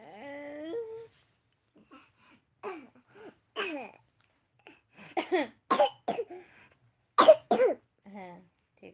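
Several harsh coughs from someone nearby, bunched toward the end with short gaps between them, mixed with a few voiced vocal sounds and quiet stretches in between.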